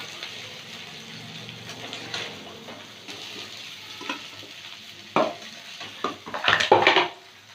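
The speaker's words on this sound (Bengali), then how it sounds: "ফুলকপিটা ভাজা হয়ে গেছে," Cauliflower pieces fry in a pan with a steady broadband sizzle, broken by scraping stirs and a cluster of louder clinks and knocks toward the end.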